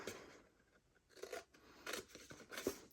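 Scissors cutting paper squares off a cupcake treat box, with a few faint, close snips spaced out irregularly against a quiet room.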